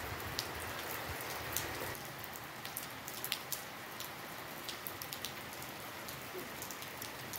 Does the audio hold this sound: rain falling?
yes